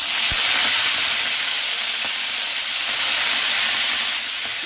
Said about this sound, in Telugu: కలిపిన తర్వాత ఇందులో ఫస్ట్ మెంతం కూర వేయాలండి.